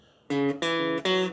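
Three quick, clear electric guitar notes picked in succession across the 5th, 4th and 3rd strings, each ringing briefly with bright harmonics, close and solo.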